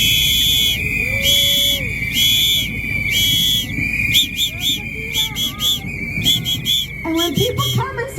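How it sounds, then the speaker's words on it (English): At an outdoor protest crowd, many whistles shrill together in repeated sharp blasts, first in a regular pattern and then in faster, overlapping bursts, loud and close over a murmuring crowd. "Let's hear everybody with the whistle."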